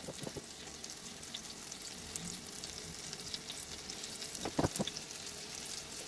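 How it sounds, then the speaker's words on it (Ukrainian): Soft, continuous sizzling of apple pancake batter frying in a hot pan, with faint crackles and a couple of brief clinks. "Оладки присмажую з кожного боку до золотисто-коричневої скоринки."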